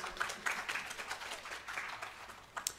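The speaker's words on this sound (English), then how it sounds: "Could you give yourselves a big round of applause?" Audience at a Sunday satsang claps in a round of applause, a loose, moderately quiet patter with uneven bursts and no talking over it.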